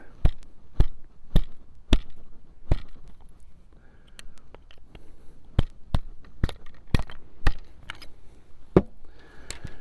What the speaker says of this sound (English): And we'll start the bullet, or in this case the ball.